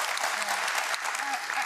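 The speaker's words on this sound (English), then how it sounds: "we should clap for Kwara State" Applause from an audience at a political nomination event, a steady wash of clapping filling the room briefly and loudly.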